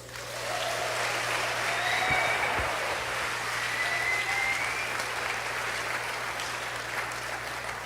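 Steady congregation applause fills a church hall during a sermon, sustained and fairly loud for several seconds with a constant low hum underneath.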